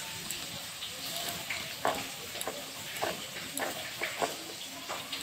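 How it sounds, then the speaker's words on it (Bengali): Fish fries in a pan with a soft, steady sizzle, broken by a few scraping and tapping sounds of a spatula, fairly quiet and close. "মাছগুলো লাল লাল করে ভেজে নিচ্ছি।"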